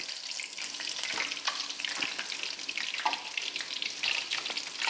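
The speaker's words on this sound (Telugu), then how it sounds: "జస్ట్ ఇలా ఫస్ట్ ఉంచండి సో దట్ అన్ని బజ్జీలు నూనెలోకి మునుగుతుపోతాయి" Mirchi bajji, batter-coated chili fritters, deep-fry in hot oil with a dense, continuous crackling sizzle and scattered pops, close and moderately loud with no voices.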